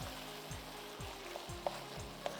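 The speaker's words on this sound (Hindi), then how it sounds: "हमने इसको अब जल्दी स्टिर फ्राई करना है" Food being stir-fried quickly in a hot pan, a steady soft sizzle with rhythmic scraping strokes about every half second and a few light clinks, faint and without talk.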